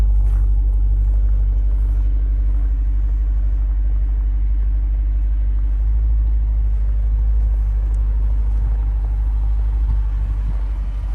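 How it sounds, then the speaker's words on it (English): Dual exhaust of a 2021 Jeep Grand Cherokee SRT gives a loud, steady, deep engine rumble that holds evenly throughout with no talk. "Has the dual exhausts right over here, sounds really good."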